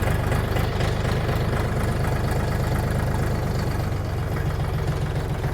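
A DTZ 5244HPX minitractor's engine runs steadily on hilly, rough terrain in four-wheel drive, a close, continuous low diesel chug with an even rhythm and no talk.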